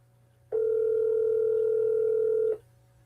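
A phone call rings out while waiting for an answer: one loud, steady electronic tone lasting about two seconds, starting and stopping abruptly over a low background hum.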